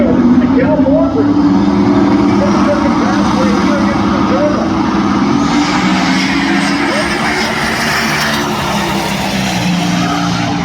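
A drag racing car making a high-speed run at a Sick Week event in Gainesville, a loud sustained engine roar with a rising whine under an announcer's voice, staying intense throughout.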